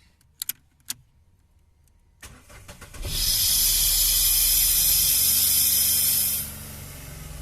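A car with a faulty brake booster starts up: a few clicks, then the engine cranks and catches with a loud steady roar that settles to a lower idle, heard close with no talking.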